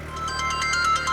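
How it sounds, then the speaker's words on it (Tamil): A phone rings with a repeating electronic ringtone, a rapid pulsing series of bright tones, loud and close with no talk. "ஃபோன் அடிக்குது அண்ணி"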